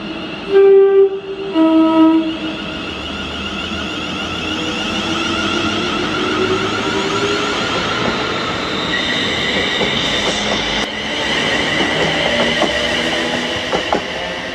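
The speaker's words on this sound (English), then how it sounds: "Then this is 2K83, the 1414 ScotRail service to Ayr from Glasgow Central." A ScotRail passenger train, the service from Glasgow Central to Ayr, runs through Paisley Gilmour Street station. Two loud horn blasts open, then come steady wheel rumble and rising wheel squeal as the train passes close by.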